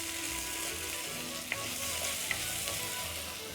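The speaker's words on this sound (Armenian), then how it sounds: "բլղուրը մի քիչ տապակում ենք" Bulgur toasting in a pan with oil, giving a steady, dense sizzle and crackle close by, with a couple of faint clicks as it is stirred; no one speaks.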